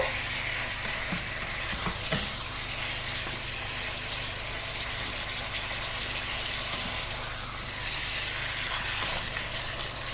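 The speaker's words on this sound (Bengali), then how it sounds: "আমি একটু সময় নিয়ে মাংসটা কষিয়ে নিব, হালকা লাল লাল করে ভেজে নিব" Chicken pieces frying and being browned in a pan for chicken pulao give a steady, close sizzle throughout, with an occasional stir or scrape and no talking.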